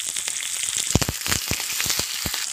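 A tempering for radish and pepper kuzhambu sizzles and crackles in hot oil, loud irregular pops and spits close up over a constant frying hiss, with no talking.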